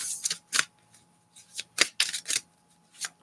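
An Ethereal Visions tarot card deck is shuffled by hand in quick, crisp riffling bursts, several close separate rustles with short pauses between, heard alone and near.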